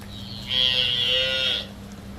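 A single long, loud cow moo lasting about a second, close by, with a faint low hum in the background.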